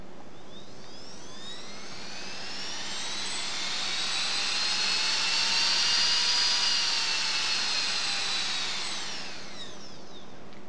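An electric motor on a CopterX RC helicopter spools up at full throttle. It rises to a loud, steady high-pitched whine, holds, then eases off, and no one speaks over it.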